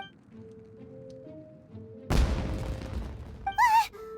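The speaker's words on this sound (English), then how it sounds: "Was that an explosion? It sounded like fireworks." In the Genshin Impact video game, a fireworks explosion lands as a sudden loud boom with a rumbling, crackling tail, preceded by soft game music and followed by a short whistling tone.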